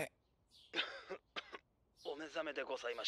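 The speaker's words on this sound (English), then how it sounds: "It's the guy that's coughing again." Several harsh coughs and throat-clearing bursts come close together, followed by a short stretch of talking.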